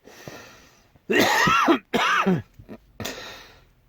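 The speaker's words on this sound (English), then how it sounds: "I was just coughing there, I couldn't stop coughing" A few harsh, rasping coughs in quick succession, close and fairly loud, with short pauses between them.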